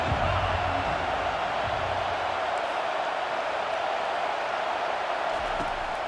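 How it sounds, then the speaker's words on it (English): Steady crowd roar fills a college football video game matchup between #2 Florida and #5 Baylor, a dense, unbroken wash of stadium noise holding at an even level throughout. "This crowd bringing the energy and noise early."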